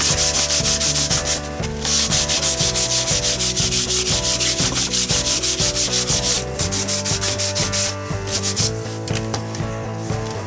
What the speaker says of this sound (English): Here's my sandpaper.